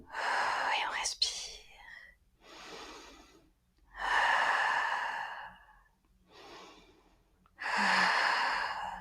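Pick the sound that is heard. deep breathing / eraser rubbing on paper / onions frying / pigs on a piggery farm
deep breathing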